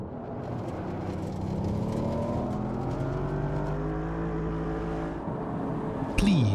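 A Porsche Cayenne Turbo engine drives through the Corkscrew in the Assetto Corsa video game, holding a steady droning tone with rising and falling pitch as the revs shift, and ends in a sharp burst near the close.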